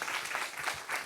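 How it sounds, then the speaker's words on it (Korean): Faint, short applause from an audience at a climate and environment leadership talk concert, a soft wash of scattered claps heard briefly and from a distance. "여러분 박수 한번 부탁드리겠습니다"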